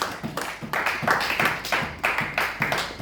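A church congregation claps in a steady rhythm, roughly two claps per second, fairly close and even, with no talk over it.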